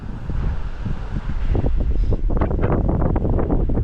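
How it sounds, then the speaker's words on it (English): Strong outdoor wind buffets the microphone while a DJI Mini 3 Pro drone flies, a loud, continuous rushing roar with gusty bursts that build stronger partway through. "So it's got a lot windier actually in the last few moments."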